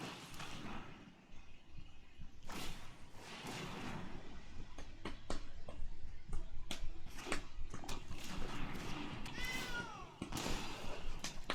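A cat meows repeatedly amid soft thumps and clicks in a Magic: The Gathering Arena match, the game's cat calls rising and falling over busy card-play sounds.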